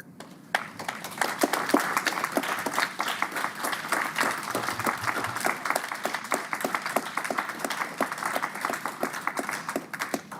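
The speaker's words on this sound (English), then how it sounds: "A round of applause for you." Sustained audience applause at a public inquiry closing session, a dense steady patter of many hands clapping for about ten seconds with no talk over it.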